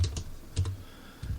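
A handful of computer keyboard keystrokes, a few quick clicks in small bursts separated by short pauses, soft and close.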